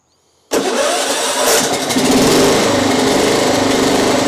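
A John Deere STX38 lawn tractor's small engine cranks and catches after a brief silence, then settles into a loud, steady close-up running roar with no talking.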